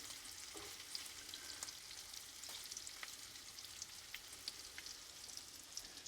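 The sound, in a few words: shrimp cooking in a pan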